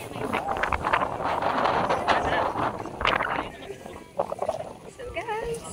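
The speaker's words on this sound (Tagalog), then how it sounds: "Ang hangin niya. Oh, di ba?" Strong gusting wind buffeting the microphone on a mountain summit at Mount Sembrano after a hike, a steady roar with people talking faintly underneath.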